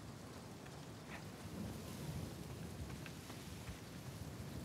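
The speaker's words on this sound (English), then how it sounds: "Oh, the storm's building." Steady heavy rain with low rolling thunder in a building storm at sea in Uncharted 4: A Thief's End, a dense continuous wash of sound with no voices.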